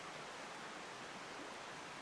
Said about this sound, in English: watch this creek, which is a nice view